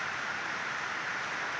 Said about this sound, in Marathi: तर चला, आता पावसाला तर झालेली आहे सुरुवात.